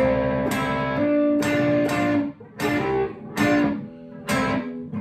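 An electric guitar plays a repeated rhythmic pentatonic lick from a song's solo, with bright strummed chords and hammered-on notes, loud and up close, with no talking.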